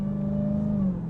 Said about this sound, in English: The supercharger whine in this is excellent